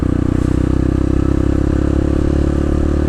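A Honda CRF 150 motorcycle idles close by with a steady, rapid engine putter as the throttle eases and a gear shifts, clattering mechanical sounds running throughout without pause.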